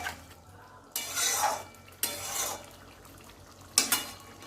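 Garam masala being stirred into a papaya and potato curry in a pan at home: three separate bursts of scraping and stirring against the pan, fairly close, with quiet pauses between them.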